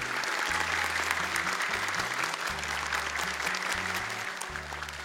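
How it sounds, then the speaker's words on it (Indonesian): Audience applause on the Hafiz Indonesia 2025 competition stage: a dense, loud burst of steady clapping from a studio crowd, sustained throughout over a low musical backing. "Boleh tepuk tangan dan semangat dulu untuk mereka"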